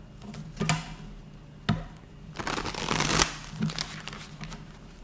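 Tarot cards shuffled in a few quick riffling bursts, crisp and close, with a longer flurry in the middle and no talking.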